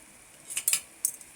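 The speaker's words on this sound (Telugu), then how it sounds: "ఇప్పుడు దీన్ని మళ్ళీ ఒకసారి బాగా కలుపుకోవాలి" A spoon stirs a capsicum and green peas masala curry seasoned with garam masala, salt and chili powder, giving a few quick, light metallic clinks against the pan, close and fairly quiet.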